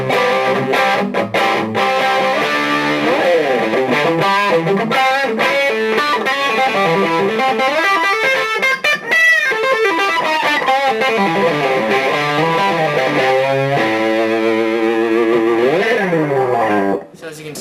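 An electric guitar played through a SHARK effects pedal set to high gain distortion mode, loud, compressed and saturated, with sustained chords and sliding bends ringing continuously and a brief gap near the end.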